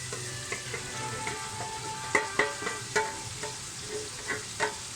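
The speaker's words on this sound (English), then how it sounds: "So I'm going to go and put the onions in now." Onions sizzling steadily in a hot pan while being stirred, with a constant frying hiss broken by sharp scrapes and clicks of a utensil against the pan, close and fairly loud, no talking.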